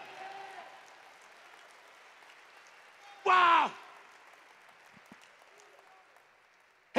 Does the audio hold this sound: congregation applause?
yes